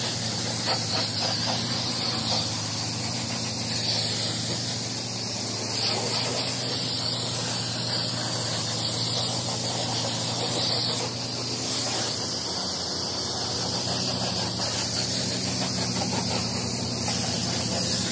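Steady pressurized hiss of water spraying onto a 1994 Ford Bronco truck during a wash, continuous and fairly close with no speech.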